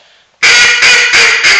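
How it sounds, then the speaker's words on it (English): Four loud, nasal quacks come from a hand-blown duck call, evenly spaced and close, with a short quiet moment before the first. "Now through the call."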